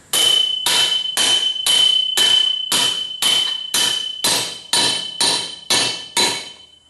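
A hammer strikes a socket on a New Holland 630 baler being overhauled, landing about a dozen loud, evenly spaced metallic blows with ringing tails, the pitch and ring shifting slightly as it bottoms out.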